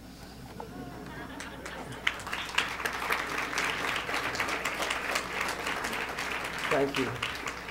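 A lecture audience at a New York State Writers Institute reading in 2002 bursts into sustained applause, a dense wash of clapping that swells and holds for several seconds, with a brief spoken thank-you near the start.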